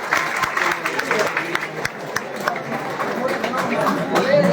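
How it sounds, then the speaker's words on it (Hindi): Audience applause at an award ceremony for selected Bihar Police candidates, continuous dense clapping from a crowd with voices and chatter mixed in. "ताली बजाते रहे आप लोग"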